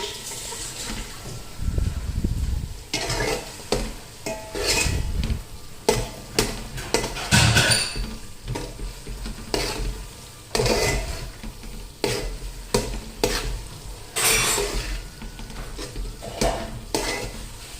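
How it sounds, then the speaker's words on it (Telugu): Mushrooms with garam masala, coriander and cumin are stirred in a pan: repeated scraping, clattering strokes of a spoon against metal over a constant sizzle, loud and close, in uneven bursts with brief pauses and no talking. "దీన్ని మనం ఇప్పుడు మంచిగా మిక్స్ చేసేసుకున్నాము."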